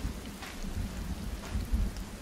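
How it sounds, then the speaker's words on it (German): Thunder from a lightning strike in the survival video game Sons of the Forest, a low rolling rumble swelling twice over steady rain, with no voices. "Das ist halt ein Blitz, der irgendwo einschlägt"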